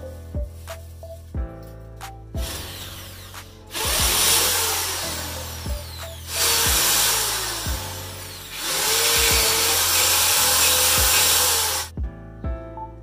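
Power drill boring holes into a wall to mount a solar flood light, three sustained loud grinding bursts separated by pauses, with sharp clicks and taps in between, close and alone.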